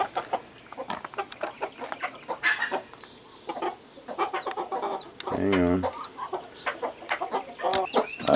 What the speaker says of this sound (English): Now there's the hen.